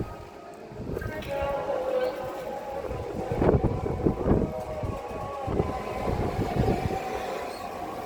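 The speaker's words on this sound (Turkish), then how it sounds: "Yemin ederim çok fena bir rüzgar var." Gusty wind buffets the microphone with steady low rumbling roar, swelling in strong bursts, while distant chirps and faint sounds sit underneath.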